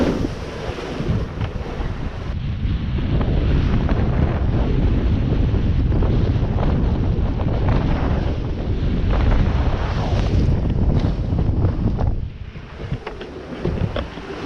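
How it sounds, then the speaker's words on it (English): Strong wind roars across the microphone aboard a Contessa 26 sailboat in an Atlantic storm, with waves rushing and slapping against the hull in a loud, continuous wash that barely lets up. "Definitely plenty of wind."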